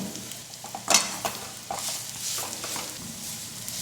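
Dates roasting in ghee in a pan while being stirred, a soft sizzle with intermittent scraping and a sharp metallic clink near the start, close and fairly quiet, no talk.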